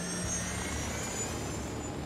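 A gyrocopter in the Far Cry 4 video game drones steadily in flight, a continuous engine and rotor hum with a high whine running evenly throughout.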